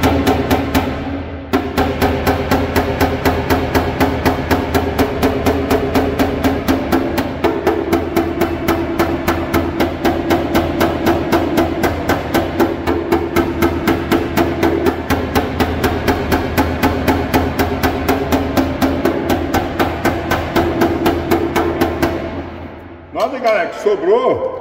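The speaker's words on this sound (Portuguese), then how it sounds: "Aí você arruma um martelo pra você trabalhar, ó." A homemade hammer taps out dents in a car body panel, a fast, regular stream of light metallic knocks close up that runs steadily for over twenty seconds before stopping, with someone talking over it.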